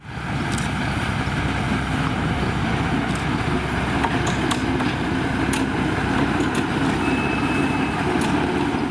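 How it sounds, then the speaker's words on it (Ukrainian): A narrow-gauge suburban train of the children's railway at Haivoron rolls into its terminal station with a steady, loud rumble, broken by scattered metallic clicks and knocks from the wheels and cars. "Поїзд прибуває до кінцевого пункту."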